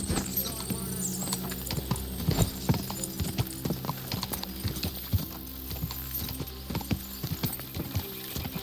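Horse hooves clip-clop in a steady rhythm in Kingdom Come: Deliverance II, close and clear over a constant game backdrop, with a few brief voices in the scene.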